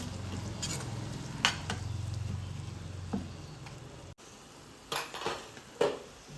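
A metal lid clinks onto a pan of sizzling eggplant bharit, the gentle frying steady at first, then a few sharp clanks and taps of cookware near the end, close and fairly quiet.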